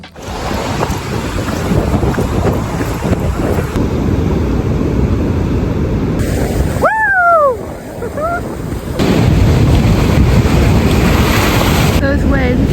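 Ocean surf rushes and breaks steadily near a beach after a long city-to-surf run, under a constant roar of wind buffeting the microphone, with brief high whistling tones partway through.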